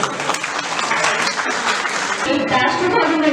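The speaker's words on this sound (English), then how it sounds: "Let's give a huge round of applause for all our achievers." Applause from an audience at a felicitation day ceremony honouring student achievers, dense steady clapping filling the hall for a few seconds with some speech-like murmur mixed in.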